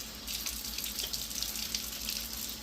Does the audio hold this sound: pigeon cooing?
no